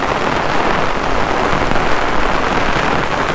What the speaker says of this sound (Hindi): बहुत तेज़ हवा भी चल रही है और बारिश हो रही है।